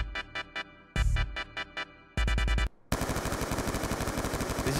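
Gunfire from Black Ops 2 in Call of Duty: loud single and short bursts of shots with gaps between, then a long, unbroken stream of rapid automatic fire.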